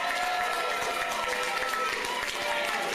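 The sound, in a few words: supporters applauding at acceptance speech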